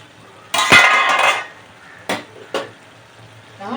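A metal lid is lifted off a pot of fish chorchori with a loud clatter and scrape, followed by two short knocks of the lid or utensil, close by with no talk.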